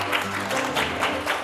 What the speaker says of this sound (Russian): Аплодисменты. Молодец.